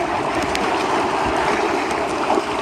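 Canoe shooting rapids on the Allanwater River, with steady loud rushing whitewater and churning flow filling the whole stretch, a few brief splashes of paddles breaking through near the end.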